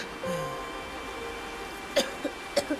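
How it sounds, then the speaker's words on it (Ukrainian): A character in The Long Dark coughs a few times near the end, short sharp bursts after a stretch of quiet crackling ambience and faint tones. "Не кашляй."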